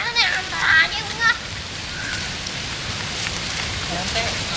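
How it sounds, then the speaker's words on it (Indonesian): Steady rain pattering on surfaces, a dense even hiss of drops throughout, with a voice and other speech briefly over it at the start. "Oh, hujan."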